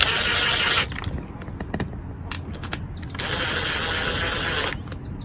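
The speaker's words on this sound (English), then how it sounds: "Now I will run them down with the impact" Impact driver running down carburetor screws on a Briggs & Stratton engine: two sustained rattling bursts with scattered clicks and taps between them, recorded close by without talk.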